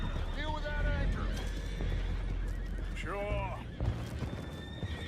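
Horses whinny loudly twice in the Red Dead Redemption 2 video game, high wavering neighs over hoof clatter and ambient noise, with a voice speaking briefly.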